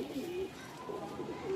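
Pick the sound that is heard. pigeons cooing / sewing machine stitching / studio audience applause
pigeons cooing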